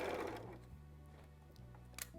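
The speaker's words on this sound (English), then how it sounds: "I'm going to be able to use the edge of my presser foot as my guide." Sewing machine stitching a sleeve seam with the presser foot edge as a guide, a low steady motor hum with small speed changes and a soft click near the end.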